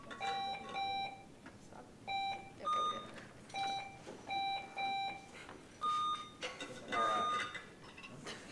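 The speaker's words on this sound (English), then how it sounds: "Here's your last chance to test your buzzer if you want." Quiz bowl buzzers are tested, sounding a series of short electronic beeps in irregular bursts, some at different pitches, with faint voices in the room between them.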